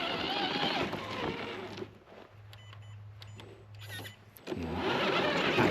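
An FMS FCX10 LC80 Toyota Land Cruiser RC crawler truck is driving on dirt trails on 2S power. Its electric motor whines and hums close by, with crunchy wheel noise on either side of a quieter, steadier middle stretch and no talk over it.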